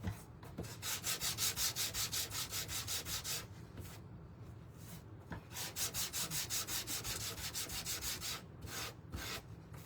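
Sandpaper rubs back and forth over a green-painted wooden piece from a St Patrick's Day house DIY kit, giving steady rhythmic scratchy strokes up close in two bursts with a short pause between them.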